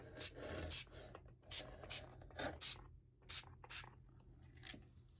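Several short hissing bursts of aerosol spray paint onto paper, each lasting about a second, with soft rustling and quiet gaps between them.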